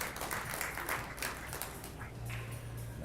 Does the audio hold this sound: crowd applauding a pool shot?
yes